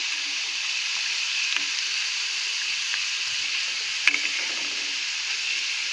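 Moong dal fries on the stove in a pan, giving a steady, bright hiss of sizzling oil that runs evenly throughout, with a few faint stirring taps.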